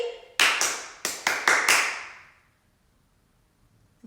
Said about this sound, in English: let's clap what you hear me clap